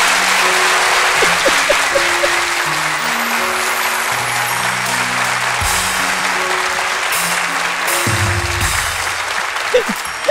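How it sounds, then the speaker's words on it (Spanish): Studio audience applause fills the room on a talk show, a dense, steady wash of clapping that holds loud for the full ten seconds, with voices murmuring underneath. "Te mando un fuerte abrazo y este aplauso del público para ti, Juan."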